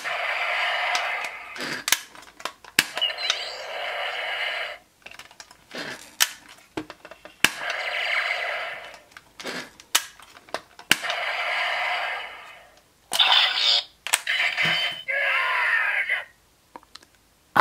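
A Power Rangers Super Ninja Steel Lion Fire Morpher toy plays a series of electronic sound effects in separate bursts, punctuated by sharp plastic button clicks and short pauses between each effect.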